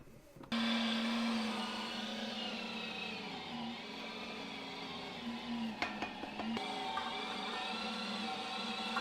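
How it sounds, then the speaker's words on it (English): An electric meat grinder works seasoned sausage meat, its motor holding a steady, loud drone for the whole stretch with a few faint clunks near the end and no talking. "let's go ahead and get this through the grinder"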